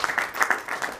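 Applause breaks out for a Youth Olympic Games champion: a short burst of many hands clapping in quick, uneven pulses, fairly close, with a faint murmur of voices underneath.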